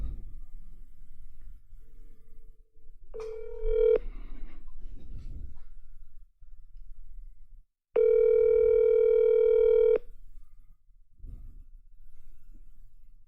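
A telephone call being placed: two steady dial-tone-like tones sound, a short one and then a longer two-second one, between quieter stretches of soft clicks and line noise, with no talking.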